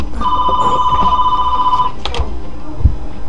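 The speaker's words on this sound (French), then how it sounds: "c'est un téléphone qui sonne" A telephone rings loudly nearby with a steady electronic trill for about two seconds, followed by a few clicks and a soft thump as the ringing stops.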